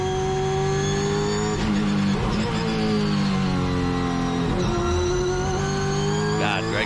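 A 2008 Holden V8 Supercar at Brands Hatch roars loudly and continuously, its engine pitch climbing through revs and dropping sharply at several gear shifts.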